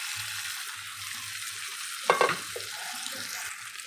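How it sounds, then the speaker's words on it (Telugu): Mutton added to fried onions in a pan and stirred, with a soft continuous sizzle and one brief clattering burst midway, close and fairly quiet, with no talk. "ఇప్పుడు మనం దీంట్లో ఇలా ఉండగానే దోరగా ఉండగానే మనం ఈ మటన్ వేసుకోవాలి"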